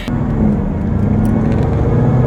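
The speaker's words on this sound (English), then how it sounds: "we are about to drive the ZL1 for the very first time" A modded, untuned Chevrolet Camaro ZL1 engine runs close and loud as the car drives, a deep steady rumble with slight rises in revs and no talking.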